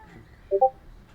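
A pet cat named Hoops gives a short crying meow, two quick close tonal cries in a row, loud against a quiet indoor room.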